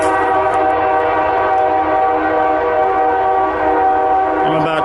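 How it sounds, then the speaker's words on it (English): A train sounds a long, loud, sustained horn near a railroad track where a road crosses without a crossing, a steady chord held for several seconds at close range. "200 yards, 2 football fields away from a railroad track. And there's a road back here, so he has to blow his horn because there's no crossing."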